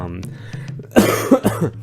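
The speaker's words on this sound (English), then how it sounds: "sorry about the coughing." A couple of rough coughs break out close to the microphone, surrounded by a speaking voice.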